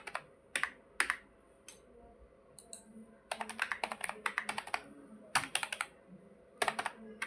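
Computer keyboard keys clatter in quick bursts as marks are typed into a table in Microsoft Word, with brief pauses between runs of close, crisp clicks and no voice over them.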